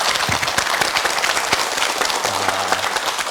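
Audience at a televised Korean lecture breaking into applause, a dense, steady wash of many hands clapping close by, with a faint voice briefly underneath.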